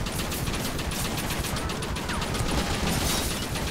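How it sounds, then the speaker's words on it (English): A Gatling gun firing in Red Dead Redemption, a rapid, continuous stream of loud rattling shots lasting the whole stretch with no pauses. "I'm on the Gatling Gun."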